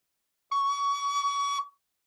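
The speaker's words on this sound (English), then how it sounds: "So when you play high D, it sounds like this." A recorder sounds a single sustained high D, a clear steady whistle-like tone held for about a second, close and alone with no talk.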